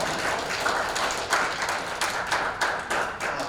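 Audience at a Rotary Foundation training gathering applauding, a dense, steady crowd clapping with rhythmic peaks, fairly close and sustained throughout without any speech.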